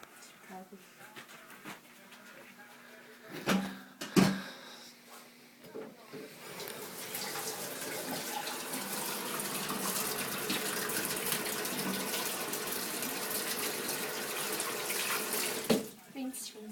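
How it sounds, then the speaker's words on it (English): Water pours steadily from a running tap while a density-column container is rinsed, a close, even gush lasting several seconds after a few knocks and clatters, with a person speaking over it. "Just rinsing."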